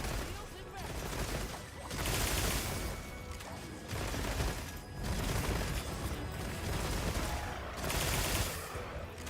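Automatic gunfire in a video game, coming in repeated loud bursts of rapid shots with short gaps between them, steady and close throughout.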